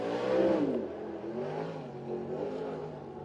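A dirt track race car laps BAPS Motor Speedway in York Haven, PA, its engine roaring loud and steady with rising and falling pitch as it powers around the oval.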